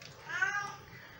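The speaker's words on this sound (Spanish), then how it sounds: "Conversaciones con mi gata." A pet cat meows once, a short, faint, drawn-out cry near the middle, indoors during a rainy, stormy day with a quiet background.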